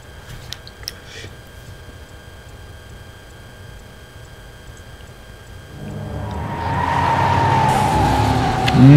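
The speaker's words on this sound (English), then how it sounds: "Stop that Lamborghini." A Lamborghini in a video game drives and skids, a low engine drone swelling into loud, close tire scrub and squeal over the last few seconds after a quieter stretch of game ambience.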